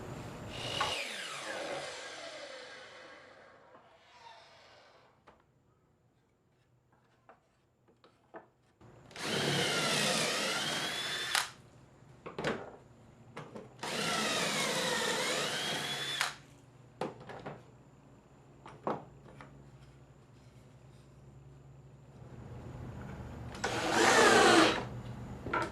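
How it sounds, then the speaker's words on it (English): A drill press fitted with a 4-inch hole saw cuts into a wooden board in three loud whirring bursts separated by quieter pauses filled with scattered knocks and handling noises. "This will allow me to drill a hole right in the center of this board"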